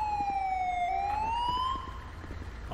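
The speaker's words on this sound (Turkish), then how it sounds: "Ambulans geldi." An ambulance siren in GTA 5 wails with a single sliding tone that dips and rises again, steady and moderately near over a low rumbling background, with no one talking.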